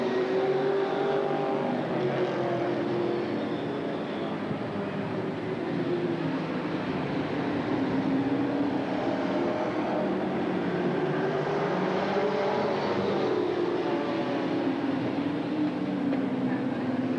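Stock cars race around an oval track at a 1987 Outlaw 100 event in Roseburg, a steady wash of engine roar from several cars heard from a distance, continuous and unbroken with faint crowd and ambient noise beneath.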